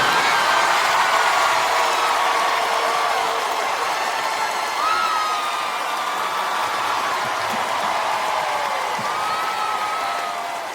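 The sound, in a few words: audience applause and cheering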